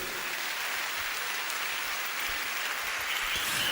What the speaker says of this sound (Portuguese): Quem pode aplaudir forte a Jesus?